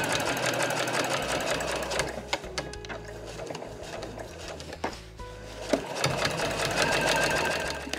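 A sewing machine backstitches through Marimekko cotton fabric for a tote bag, its steady close whirring broken by brief stops and clicks as the stitching direction reverses.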